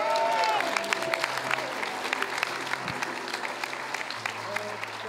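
Applause from a church congregation, broad dense clapping that is loudest at the start and slowly eases off, with voices and some music mixed in beneath it.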